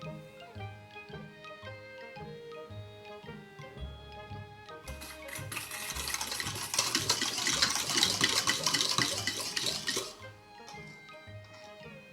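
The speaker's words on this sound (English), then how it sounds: "And add water to it." Water poured into a bowl of chilled ramen broth made from soy sauce, sugar, chicken broth mix, vinegar and sesame oil; a close, bright splashing stream runs for about five seconds over quiet kitchen noise, then stops.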